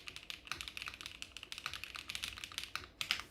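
A custom-built mechanical keyboard with its foam removed is typed on rapidly, giving a close, crisp stream of uneven key clicks and clacks with no talking.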